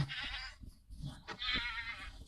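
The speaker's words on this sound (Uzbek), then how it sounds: "Bu echki bizni urolmaydi" A Minecraft goat bleats in several drawn-out, wavering cries, loud and close, with short gaps between calls.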